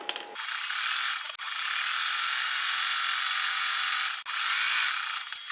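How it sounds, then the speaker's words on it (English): Sewing machine running a zigzag stitch over a trimmed fabric edge, a loud, steady mechanical whir that stops briefly twice and restarts, close by with no talking. "I'm gonna do a zigzag over that I just trimmed."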